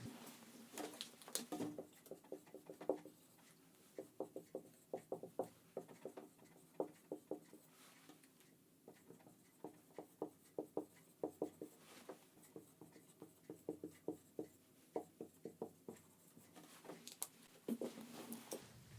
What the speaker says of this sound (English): I'm going to write them on this board so you get a visual.